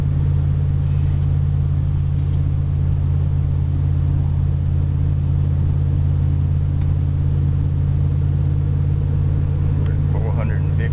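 A car engine holds around 3,000 RPM on a mountain road, a steady loud low drone with a constant rumble and no clear change in pitch.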